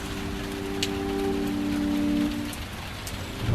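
Heavy rain pours steadily as a radio drama sound effect, a dense hiss of drops drumming on a surface with a low rumble beneath, constant and close with no voices.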